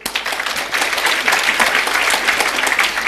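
Steady applause from a church congregation during a sermon, a dense wash of many hands clapping that stays loud and even for about three seconds with no talk over it.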